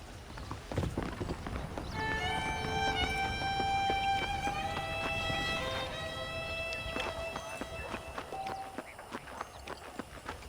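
Hooves clop in a steady rhythm on hard ground, close by, in Red Dead Redemption 2, while a horse-like whinny rises and falls over them.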